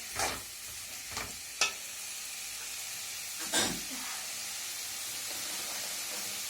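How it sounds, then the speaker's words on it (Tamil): Green and dried red chillies frying in oil for a potato stir-fry, a continuous steady sizzle broken by a few sharp stirring scrapes near the start and middle, no talking. "கொஞ்சம் எண்ணெயிலேயே அப்படியே ஃப்ரை ஆகணும்"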